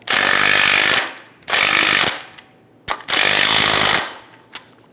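An impact-style power tool tightens the top strut nut on a 2010-2014 Subaru Outback front strut assembly, with three loud, close bursts of rapid hammering, each about a second long, separated by short pauses.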